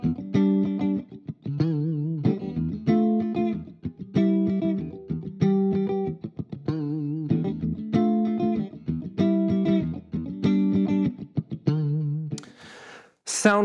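An Epiphone Wilshire electric guitar, played plugged in with its tone sounding rolled off, strums distorted chords in a repeated rhythmic pattern with an effects-laden, nasal tone, ending in a brief burst of noise.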